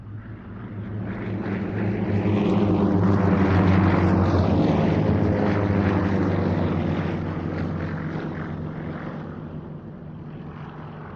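Yakovlev Yak-52 and Yak-50 aerobatic propeller aircraft make a display pass, a droning engine whine that swells to a loud peak and then fades as they fly by and away.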